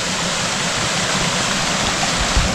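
A waterfall on the Allen Mountain hiking trail gives a loud, continuous broadband rush of falling water, close by and steady throughout.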